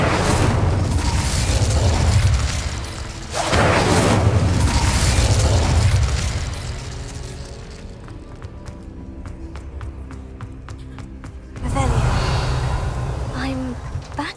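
The Incendio fire spell is cast in the video game Hogwarts Legacy, with loud roaring bursts of flame in several surges, a quieter gap with light mechanical ticking, and a final rushing blast.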